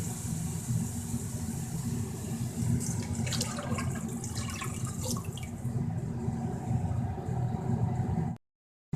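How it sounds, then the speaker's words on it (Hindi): Water poured from a glass into masoor dal masala in a pressure cooker, a steady close splashing and bubbling pour running several seconds before cutting to silence. "अब मैं इसमें पानी डाल देती हूँ।"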